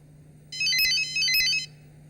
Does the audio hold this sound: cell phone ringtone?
yes